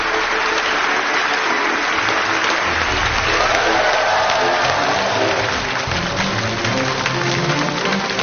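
A television lecture audience applauds to welcome a Peking University life sciences professor onto the stage, dense sustained clapping from a large crowd filling the whole stretch at steady loudness.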